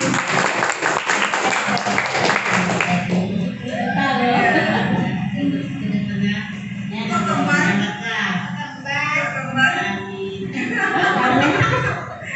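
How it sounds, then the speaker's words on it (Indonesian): An indoor audience claps steadily for a few seconds before a voice takes over, with scattered clapping and murmuring continuing beneath the talk. "Tepuk tangan dong."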